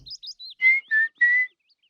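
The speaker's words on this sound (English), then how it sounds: "whistling." Short, clear whistled notes from a cartoon character, several quick rising chirps followed by three longer steady tones, close and bright.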